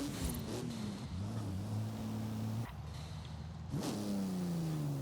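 Car engine revving hard during a boosted wheelie launch in Forza Horizon 5, with a steady rising and falling engine tone and pitch shifts at each gear change, loud and continuous.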